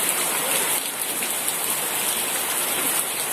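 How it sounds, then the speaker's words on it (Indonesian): Rain falls steadily at an Islamic boarding school, a dense, even hiss of drops with no breaks and no voices. "Di sini hujan."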